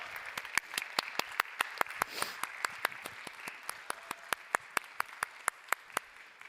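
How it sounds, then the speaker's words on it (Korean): Applause in a Korean church's young-adult Sunday service welcomes the leadership team. Many hands clap softly and fairly distant, with a few sharp, evenly spaced claps standing out clearly above the steady patter. "우리 박수로 모시도록 하겠습니다."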